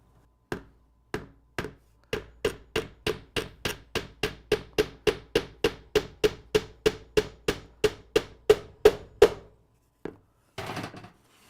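A little nail is driven in a home workshop with about thirty quick, evenly spaced hammer taps, sharp and close, speeding into a steady rhythm before stopping, then a brief scrape.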